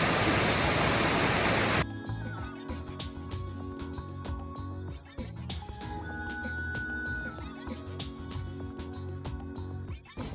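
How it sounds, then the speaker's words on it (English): A waterfall at Oak Mountain State Park, Alabama, roars loud and close for under two seconds before cutting abruptly to quieter outdoor ambience with faint tones and scattered clicks. "Here's our first waterfall of the new year in BFE, Alabama."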